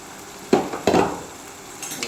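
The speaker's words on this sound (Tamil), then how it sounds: "தக்காளி தொக்கு நல்லா வந்து வதங்கிட்டுருக்கு பச்சை மிளகா வெங்காயம் பூண்டு தக்காளியெல்லாம் நல்லா சின்ன வெங்காயம் நல்லா வதங்கிட்டுருக்கு" Tomato paste with green chilies, shallots and garlic sautéing in a pan, two short bursts of stirring and sizzle close by, then a quieter low fry.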